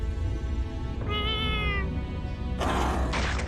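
A cat meows in drawn-out, wavering cries close by, heard over a constant low hum and a busy background, with no voices.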